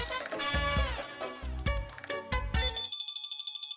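Telephone ringing in a comedy scene, preceded by a loud burst of dramatic music with heavy beats, then cut to a steady repeating electronic ringtone tone.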